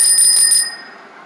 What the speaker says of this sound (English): so we got your standard bell.